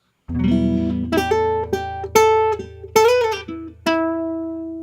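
A clean jazz guitar strikes a sharp chord stab, then picks out a quick melodic line of bright, plucked notes with a bend, all alone without talk.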